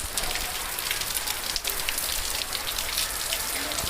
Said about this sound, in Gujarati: ભાઈ વરસાદ આવ્યો